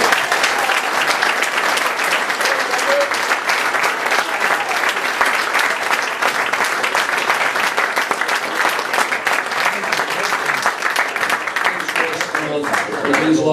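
Sustained, dense audience applause at a rugby league club presentation night in Oldham, loud and steady throughout with no break, and crowd voices faintly mixed in.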